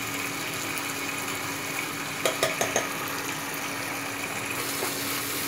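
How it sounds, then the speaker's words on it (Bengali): Pasta sauce with spices and tomato sauce frying in a pan gives a steady, close sizzle, with a brief cluster of light clinks from stirring partway through and no talking. "এই সবগুলো পরিমাণ একটু ভালোভাবে ভেজে নেবো।"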